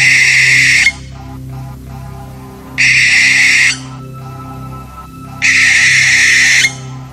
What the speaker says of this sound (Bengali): কোথায় যেন একটা পেঁচা বিকট শব্দ করে ডেকে উঠল